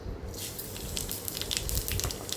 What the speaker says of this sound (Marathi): जिरं मोहरी चांगली फुलली तडतडली